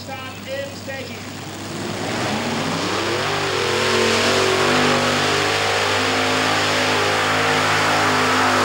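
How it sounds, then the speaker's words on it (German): A tractor-pulling tractor's powerful engine roars and climbs in pitch at a 1994 pulling event in Erkelenz-Holzweiler, Germany, then holds a loud, sustained straining drone under heavy load, with a crowd or announcer faint underneath. "Eugen Kiemele verlangt dem Traktor alles ab, was er an Leistung zu bieten hat."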